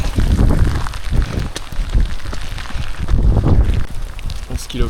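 Heavy storm rain falls during an outdoor run, a steady close wash of drops with gusty rumbling bursts, while someone talks over it.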